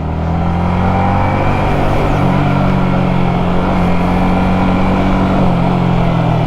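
Small-displacement motorcycle engine on a race track, redlining around 11,000 RPM, droning loud and steady at high revs with slight pitch shifts throughout, no voices.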